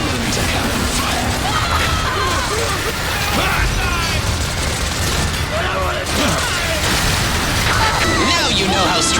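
Video game cannon fire in EDF 5, 120mm shells from the air, sounds as a dense barrage of booms and crashing impacts mixed with battle noise, loud and continuous, with voices talking over it.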